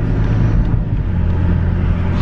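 BMW X5 M SUV driving on a wet road, heard through an open window: a steady, loud low engine rumble with broadband tyre hiss that holds constant throughout, with no talk.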